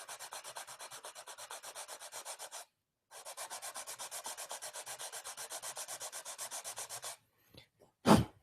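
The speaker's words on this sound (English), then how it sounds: "But I'm going to just sand this ebony and just hope it doesn't make a huge mess." Ebony wood drawer pull sanded by hand, a steady run of rhythmic rubbing strokes, a brief pause, then another long burst of even back-and-forth scratching, ending with a sharp louder knock.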